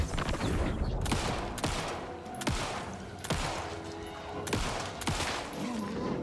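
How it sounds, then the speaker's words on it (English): Five rapid gunshots to an enemy's head in the Alan Wake II video game, sharp loud cracks spaced roughly half a second to a second apart over a dense, noisy game backdrop. "I think that was five landed shots to the head"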